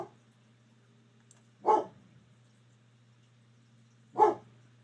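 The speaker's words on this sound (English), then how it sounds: "Bark for big candles, baby." A dog gives two single barks spaced a few seconds apart, fairly close and clear over a quiet low hum, with near silence between them.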